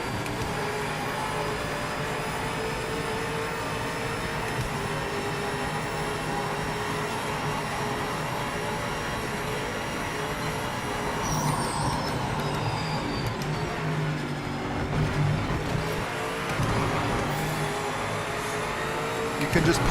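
Race car engine in the Project Motor Racing video game, a GTE car lapping a circuit, droning steadily throughout with shifting pitch as it powers through corners.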